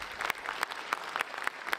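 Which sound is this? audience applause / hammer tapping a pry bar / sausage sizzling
audience applause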